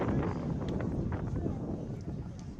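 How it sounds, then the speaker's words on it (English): Wind gusts buffet the microphone at Don Stadium during a girls' soccer match between Spanish Fork and Springville, a steady loud low rumble with no pauses across the whole stretch. "the wind absolutely gusting here at Don Stadium"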